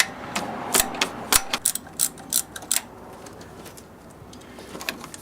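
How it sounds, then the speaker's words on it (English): Ratchet on a Chevy 3.4L V6 backing out water pump bolts: a run of sharp, close metallic clicking bursts in the first few seconds, then quieter scattered clicks with pauses between. "So we broke all these bolts loose now, and just going to unscrew them all."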